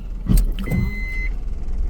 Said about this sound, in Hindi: चलो जी गाड़ी घुमाते हैं।